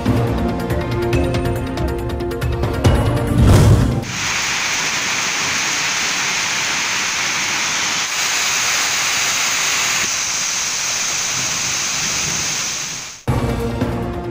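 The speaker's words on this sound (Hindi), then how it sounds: "तेज आंधी के साथ मूसलाधार बारिश, मौसम खुशगवार हो गया" Torrential rain lashing down with strong wind in Murree, a steady loud broadband roar of downpour and gusts, holding constant for about nine seconds between louder music-like passages at either end.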